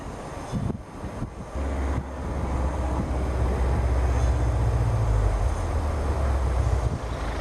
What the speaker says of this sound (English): Had a pretty good headwind today.